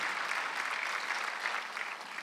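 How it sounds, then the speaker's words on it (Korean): Steady applause from a church congregation during a Sunday worship service fills the whole clip, even and fairly loud, with no voices over it. "박수하세요"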